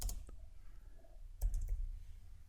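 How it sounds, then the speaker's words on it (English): Keys click on a computer keyboard as the space bar is pressed while working in electrical design software. A few sharp clicks sound close up against quiet room noise. "hitting the space bar"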